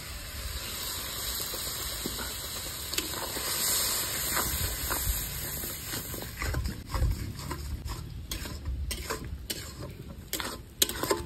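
Water poured into a hot pan holding sweet paste and fish curry with taro and potato, a steady steamy hiss with scattered clicks and stirring knocks growing sharper toward the end, fairly faint, no talk.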